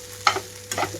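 Rice being stir-fried in a pan with tempering for egg fried rice, heard as two short bursts of scraping and sizzling over a faint steady hum.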